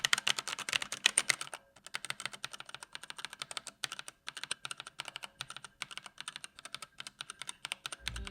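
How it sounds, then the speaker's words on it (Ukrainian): Typing on a GamePro budget mechanical keyboard with red switches: a steady stream of soft, fast key presses without a sharp click, close up, with a brief pause and then more rapid typing. "Червоні свічі тихіші, ніж сині свічі, і не мають такого чітко вираженого кліку."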